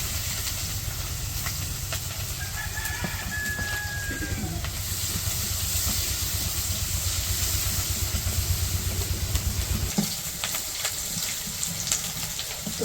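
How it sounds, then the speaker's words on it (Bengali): Onions and green chilies fry in oil for a Bangladeshi fish curry, giving a steady broadband sizzle and hiss that runs throughout at moderate level, with a low hum underneath and a few faint clicks, no voices. "এখন তরকারি রান্না করবো, পেঁয়াজ আর কাঁচামরিচ দিয়ে দিই।"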